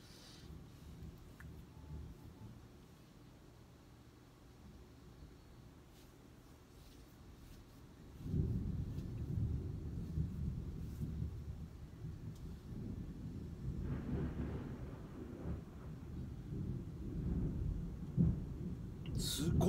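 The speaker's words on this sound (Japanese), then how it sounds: "すごい雷やな。" Thunder in an episode of the anime ATRI -My Dear Moments- starts as a faint low murmur, then swells into a heavy, sustained rumble that keeps rolling to the end, with quiet voices underneath.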